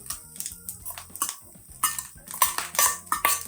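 Fried paneer being stirred into veg rice in a pan, giving a steady run of close metallic clinks and scrapes from a spoon against the pan, growing busier and louder partway through.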